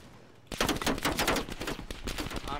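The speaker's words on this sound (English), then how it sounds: "I'm definitely getting shot at from somewhere up there." Sustained automatic gunfire in Call of Duty: Cold War bursts in after a half-second lull, a loud rapid volley of shots continuing to the end.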